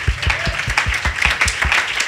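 Children clapping in church, a loose, fairly rhythmic run of distinct hand claps close by, about two seconds long.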